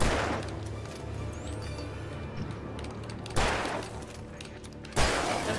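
Gunfire in the survival horror game Alan Wake Remastered: a sustained burst of shots opens the clip, then two further loud, sharp gunshots land about 1.6 seconds apart over a dark ambient game backdrop.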